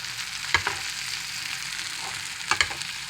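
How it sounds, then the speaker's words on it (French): Meat frying gently in butter in a small pan, a steady soft sizzle with two sharp spatter bursts, close and alone without voices. "vous mettez le beurre directement sur la viande tout en cuisant tout doucement"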